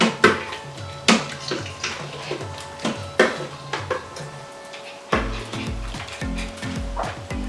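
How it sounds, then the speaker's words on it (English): Creamy potato and broccoli soup stirred in an Instant Pot, a spoon clinking and scraping against the metal inner pot in repeated knocks, then a busier, continuous scraping stir toward the end. "Give it all a good stir to incorporate everything together"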